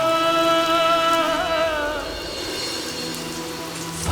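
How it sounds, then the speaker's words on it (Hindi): Rain falls steadily as a soft, even hiss, heard beneath a fading sung melody that trails off partway through, after which the rain continues on its own. "अगर बारिश हो रही है"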